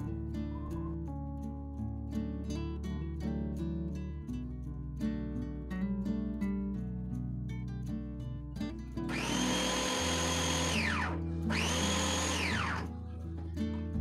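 A mixer grinder jar chops roughly cut onion and tomato in two loud whirring bursts of a few seconds each, with background music playing throughout.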